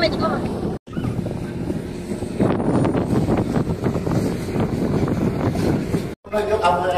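Strong wind buffets the microphone on the open deck of the passenger ship KM. Dharma Rucitra 1 at sea, a loud steady roar with a low engine and water rumble beneath it while people talk.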